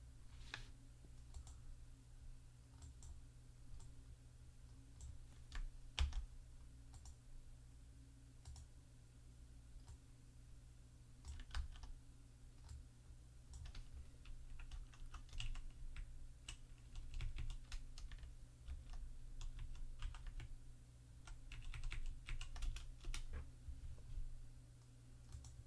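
Typing on a computer keyboard while entering a product description: soft, close keystrokes and clicks tapping in irregular runs over a faint steady hum, with no talking.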